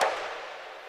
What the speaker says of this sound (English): essentially it's just like a timpani thing from an orchestra